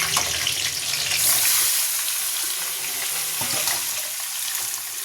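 Hilsa fish pieces frying in mustard oil with nigella seeds and green chili in a small wok, a steady dense sizzle holding loud and unbroken, with a few faint clinks of a utensil.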